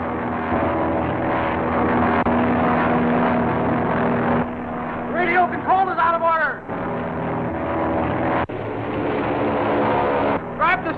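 A propeller plane drones steadily in a 1950 film serial soundtrack, engine noise running throughout with a rising pitch as the aircraft dives, under excited dialogue from actors.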